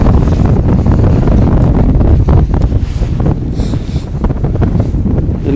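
Strong wind blows across a frozen lake during a winter fishing trip, buffeting the microphone with loud, steady roaring rumble and gusty fluctuations for several seconds, with no voices.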